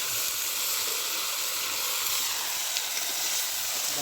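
Tomato paste sizzling with fried potatoes in a pan, a steady bright hiss that runs unbroken and fairly loud throughout, with no voices over it.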